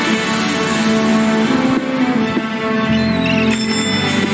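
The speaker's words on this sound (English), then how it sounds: "It was supposed to be a doorbell prank." A doorbell rings repeatedly as a prank in the game Deponia, a bright bell-like ringing tone sustained over a loud background hum and game ambience, with no voices.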